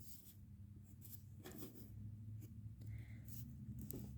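Pencil strokes scratch across paper while an eye is drawn, a soft, close, steady scratching that runs the whole time with brief pauses between strokes.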